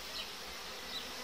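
Honey bees buzz at an open hive frame during a colony inspection, a steady, close, dense hum with no voices.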